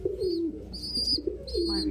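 Pigeons or doves cooing in a close, steady series of soft low calls, with faint chirps layered above, near and fairly loud throughout with no talk.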